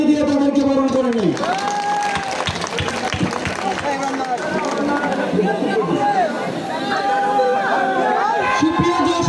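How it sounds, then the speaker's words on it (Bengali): Crowd at a political rally in Jashore clapping to welcome party leaders, a steady patter of applause under a loud amplified speaker's voice and general crowd chatter. "আমরা করজোড়ে হাততালি দিয়ে তাদেরকে বরণ করে নেই"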